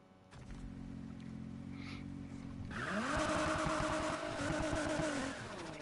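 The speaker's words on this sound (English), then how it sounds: "This car's pretty loud." A loud car engine in Need for Speed Heat, a 1975 model, idling with a deep rumble before revving up sharply and holding a strong, steady roar, with no voices over it.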